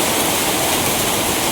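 Water rushing into a handloom pit, a loud, unbroken broadband roar like a small torrent pouring close by, steady for the whole moment with no voices.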